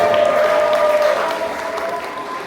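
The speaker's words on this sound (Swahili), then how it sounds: "Shangilie Bwana kwa makofi mengi" A church congregation at a Sunday service applauds together, a dense, steady burst of clapping that fills the room and eases off slightly toward the end.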